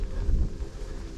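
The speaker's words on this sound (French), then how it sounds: "Désolé pour le vent." Wind buffeting a microphone outdoors near hilltop ruins, a brief, loud, low rumbling rush with uneven gusts.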